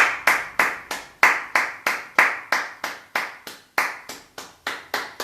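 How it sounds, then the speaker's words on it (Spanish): Audience applause for the word of God at a church gathering, a run of about a dozen sharp, evenly spaced claps, close and loud, with no talk over them. "Le vamos a dar un fuerte aplauso."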